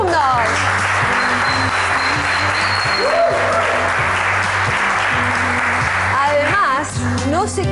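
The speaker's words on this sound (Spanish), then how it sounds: "un aplauso para todos los alumnos" An audience in a television studio gives steady, full applause for students after a taebo demonstration, the clapping sustained for several seconds beneath a host's voice and rhythmic background music.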